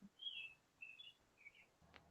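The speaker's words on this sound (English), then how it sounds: "And all we hear is birds tweeting in the background." Birds chirp faintly in the background, three short high tweets spaced evenly across a quiet stretch, with a soft thump near the end and no talk.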